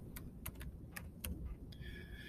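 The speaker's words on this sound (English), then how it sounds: "We're actually going to do some typing in here." Computer keyboard typing during a tech class, a handful of sharp, irregular key clicks spread over a couple of seconds, close and clear with no talking.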